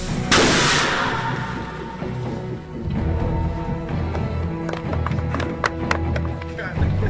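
A Jericho missile test blast staged for an Iron Man film scene at Lone Pine: one sharp, loud explosion early on that rolls off into a long rumble, followed by scattered cracks and clatter while voices talk.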